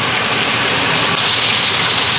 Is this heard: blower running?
yes